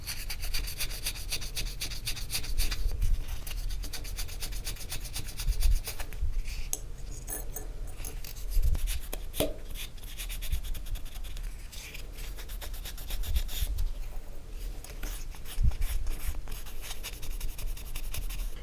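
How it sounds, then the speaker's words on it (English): Polishing a stamped metal collage piece with steady rubbing and scraping strokes, close and continuous with brief pauses and a few small knocks, no voices. "Then we can polish it up."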